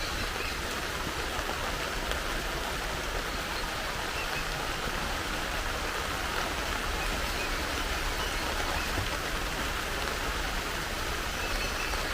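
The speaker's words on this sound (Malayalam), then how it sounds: "മഴയുണ്ട്" Steady, even rain pouring down, a dense hiss of drops with no voices, constant and close throughout.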